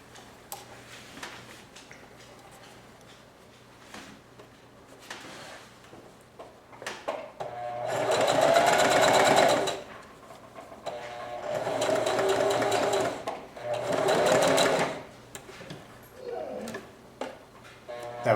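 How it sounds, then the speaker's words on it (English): A sewing machine stitches the raw sides of a fabric face mask in three loud, whirring bursts of a few seconds each, with quiet handling sounds and light ticking between runs. "The next thing I'm going to do is I'm just going to sew these raw sides."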